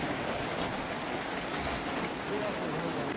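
Rain falling outside a roadside duck-meat eatery, a dense, even hiss of drops hitting surfaces that holds steady and fairly close for the whole short stretch.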